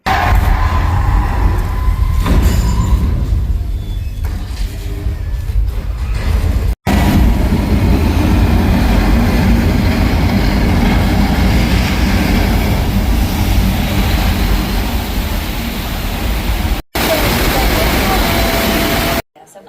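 Universal Studios Hollywood studio tour tram rolling along with a steady, loud broadband rumble and rattle that runs throughout, with a couple of brief dropouts and people talking over it.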